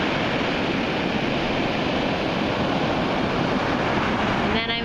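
Ocean surf roars as a constant dense wash of breaking waves, loud and close, with wind buffeting the microphone throughout.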